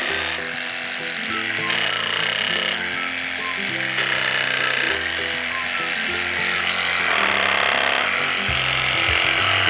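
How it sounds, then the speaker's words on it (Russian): Electric jigsaw cutting wood on a children's woodworking machine, a steady close buzzing drone with stepped motor tones throughout, loud and continuous. "Я повелитель лобзика."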